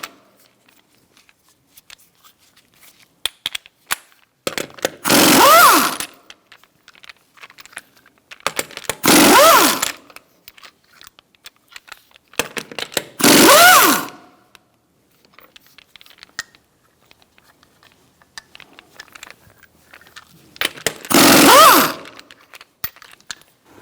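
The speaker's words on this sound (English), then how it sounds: "Using a 21mm socket, we're going to take off our lug nuts to remove the wheel." An impact gun with a 21mm socket spins off lug nuts on a 2005-2010 Chrysler 300 rear wheel, four loud, evenly spaced whirring bursts of about a second each, separated by quieter clinks and handling noises.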